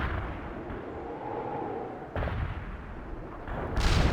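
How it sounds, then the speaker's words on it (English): Artillery strike in World in Conflict, a dense rumbling barrage of low booms that swells and shifts, with a sharp louder burst near the end, heard alone with no voices. "Artillery strike is inbound."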